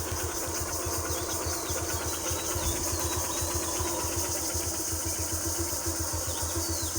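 A motorcycle engine, already started, idles nearby with a steady, rhythmic low putter that holds constant throughout.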